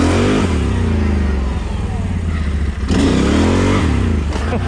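A 32-inch Terache Aztex XL RC car drives in high gear over bumpy, rocky ground, its motor whining loud and steady throughout, with a brief dip in pitch before it surges again.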